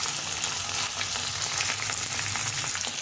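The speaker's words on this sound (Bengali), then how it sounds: "ডিমটা ভাজা হয়ে গেছে" An egg fries in a pan with a loud, steady crackling sizzle that continues without pause and with no voices.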